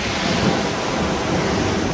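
Sea waves wash up onto the shore beside a beach, making a steady, dense roar of surf with a rushing, wind-like hiss that runs unbroken through the whole stretch, with no voices.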